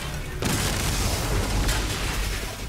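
Unstable power conduits burst apart under gunfire in the video game Agents of Mayhem, a sudden loud blast followed by a rumbling, crackling roar that swells again midway before tailing off.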